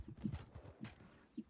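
Hooves of a horse in the Red Dead Online video game clip-clop softly in a short, irregular walking rhythm, faint and close, with no talk over them.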